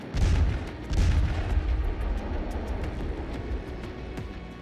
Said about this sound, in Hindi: पिनाका बैटरी जिसमें 6 लॉन्चर होते हैं, वो 44 सेकंड में 72 रॉकेट फायर करती है।